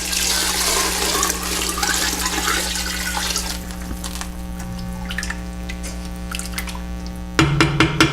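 About eight cups of water pour steadily into a cooking pot for a soup, a continuous splashing rush that ends with a few clunks near the finish.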